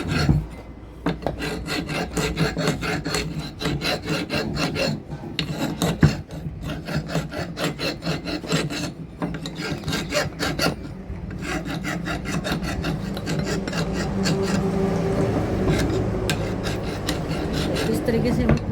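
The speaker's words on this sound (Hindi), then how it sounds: "अगर ऐसे रेती से उतारते हैं तो रेती इससे भी उतर जाएगी" A metal file rasps rust off an angle grinder motor part in steady, repeated back-and-forth strokes, close and prominent, with brief pauses between passes.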